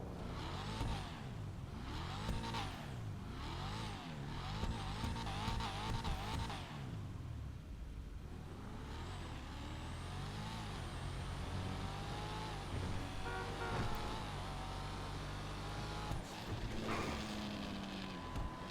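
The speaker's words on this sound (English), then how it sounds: "listen to that exhaust popping" A revving Bravado Verlierer engine in GTA Online, loud and continuous, with throttle surges and crackling exhaust pops between shifts.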